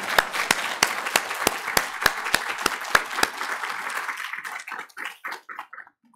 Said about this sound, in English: Everyone, give the DOT a round of applause.